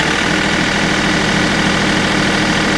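A HydrosPlus 2R3E compact loader tractor's engine runs at about 1600 RPM, a loud, steady, close mechanical drone with constant vibration and no talking.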